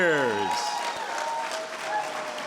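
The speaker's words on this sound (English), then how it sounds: "let's give that a little bit more applause there" Audience applauding at a retirement ceremony, a steady wash of clapping that fades slightly toward the end, with a speaking voice trailing off at the start.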